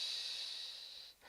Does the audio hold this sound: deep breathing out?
yes